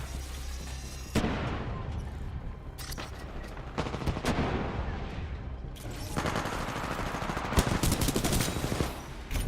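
Gunfire in the shooter game Titanfall 2, with bursts of rapid automatic fire and sharp single shots cracking repeatedly over several seconds, loud and close, with brief gaps between volleys.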